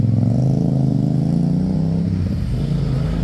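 A motorbike engine rumbles loudly and close by, its throttle swelling over steady traffic noise without any talking.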